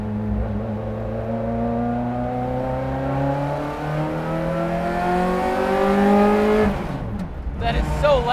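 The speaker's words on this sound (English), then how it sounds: "That is so loud, and it revs so fast." A 1995 Ferrari F355 race car engine revs hard on a track, its loud rising whine climbing steadily for about seven seconds before a sharp drop at a shift, heard from inside the car.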